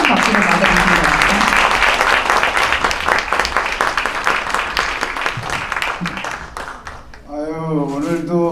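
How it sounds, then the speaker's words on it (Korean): A conference audience claps in strong, steady applause to welcome a foundation chairman onto a lecture stage, loud and sustained before fading, with an announcer's voice rising over it at the end. "남진석 이사장님을 힘찬 박수로 맞아주시기"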